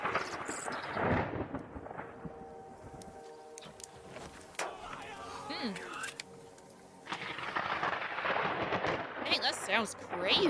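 Deep thunder rumbles and cracks through a stormy backdrop, with broadband bursts near the start and again toward the end, loud and close.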